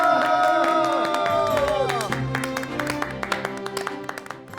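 An audience in a studio or hall claps after a drawn-out voice, with scattered, separate claps thinning toward the end.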